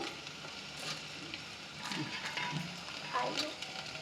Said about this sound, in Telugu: దంచి పెట్టుకున్న పచ్చిమిర్చి అల్లం వేసుకొని వేగనివ్వాలి